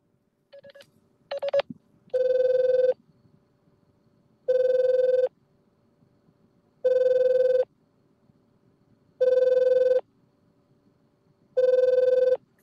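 An unanswered telephone rings in repeated electronic bursts, about five evenly spaced rings of under a second each after a few short tones, loud and clear against near silence.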